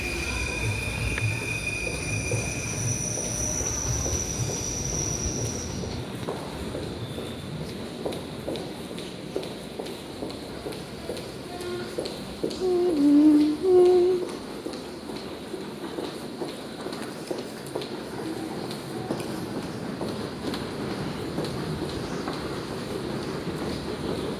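A London Underground train at Bank station gives a steady low rumble with rhythmic wheel clatter and brief squeals, heard from close by. Footsteps come through, and a short louder rush rises midway.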